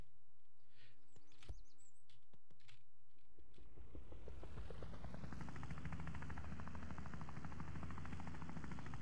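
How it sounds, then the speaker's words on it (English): A small helicopter in the game Wobbly Life spins up, its rotor chop starting faint and quickly building to a loud, steady, rapid thumping that carries on to the end. "Look at the smaller helicopter."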